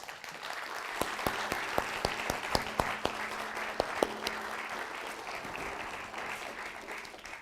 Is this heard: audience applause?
yes